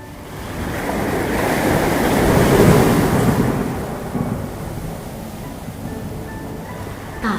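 A storm sound effect of strong wind and crashing waves makes a dense, loud roaring rush. It swells toward the middle, then eases to a steadier churning, with no speech.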